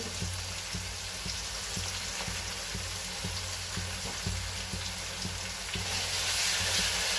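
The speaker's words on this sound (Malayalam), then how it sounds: "ഈ സവാള നന്നായിട്ട് ബ്രൗൺ കളറായിട്ട് വറുത്ത് കിട്ടണം." Onions sizzle and crackle steadily in a hot pan, frying until brown for chicken masala, a continuous close frying hiss with small pops and no voices.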